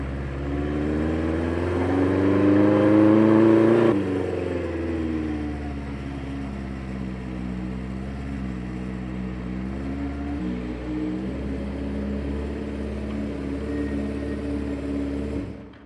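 A Harley-Davidson Street 750 motorcycle engine runs steadily during a ride. Its pitch climbs briefly, then it settles into an even mid-range drone, close and continuous, with no talking.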